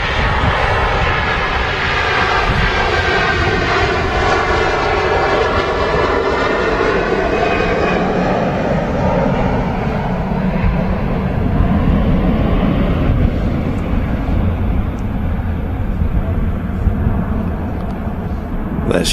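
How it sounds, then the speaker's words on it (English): A Virgin Atlantic Airbus A330 at Manchester Airport roars on its takeoff roll, a loud, sustained jet engine rumble with a rising whine that slowly shifts and fades slightly toward the end. "Here's a 330 on the roll."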